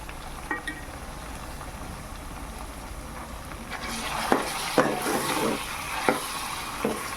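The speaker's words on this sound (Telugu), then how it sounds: "పసుపు యాడ్ చేసుకున్నాక కాసేపు కలుపుకోవాలి" A frying mixture with turmeric is stirred in a pan for egg dum biryani: a soft steady sizzle with several distinct scraping stir strokes growing louder in the second half, close with no talking.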